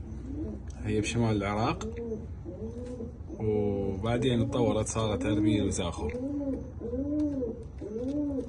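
Racing pigeons coo repeatedly in soft, rounded calls close by, with someone talking over part of the cooing.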